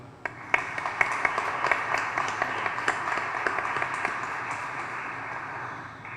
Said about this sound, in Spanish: Para él otro aplauso.